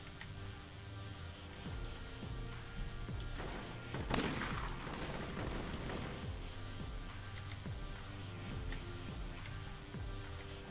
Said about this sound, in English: Okay, you're shooting. You're just doing it very slowly.